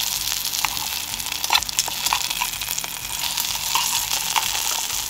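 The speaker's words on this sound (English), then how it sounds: "putting on the lid helps to retain the heat there in the camp oven while those lamb shanks are browning" Lamb shanks brown in a camp oven with a steady, close, crackling sizzle of hot fat. Small pops and spits break through the continuous frying hiss.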